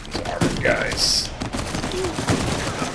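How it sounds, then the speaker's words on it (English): Gunfire from a shootout in the video game Uncharted 4, a burst of shots with sharp transients scattered through the clip, mixed with game effects and voices talking over the action. "I thought that was Sam shooting from the side"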